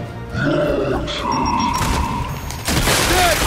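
A frag grenade goes off in the shooter game Gears 5, a loud muffled boom amid battle noise and grunting, with a second burst of blast noise near the end.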